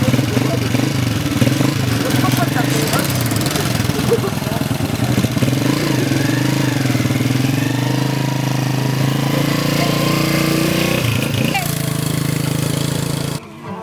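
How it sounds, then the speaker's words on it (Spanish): Noisy motorcycles on Malapascua island run with a continuous mid-pitched engine drone and a rattling putter, loud and close for the whole stretch, then cut off abruptly at the end. "Las ruidosas motos son las únicas que alteran la paz que se vive y se respira en este paraíso."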